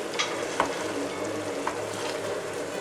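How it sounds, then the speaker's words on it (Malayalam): Fried maida snacks are stirred through melted sugar syrup in a pan, giving a steady soft hiss with a few light scraping clicks, close by and with no talking. "എന്നിട്ട് നമുക്കിതൊന്ന് ഇളക്കി കൊടുക്കാം"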